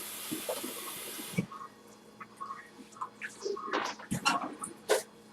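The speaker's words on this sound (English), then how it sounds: "I'm going to go ahead and rinse my hands real quick." Tap water runs into a kitchen sink while hands are rinsed, with a steady hiss at first that stops, followed by scattered splashes and drips.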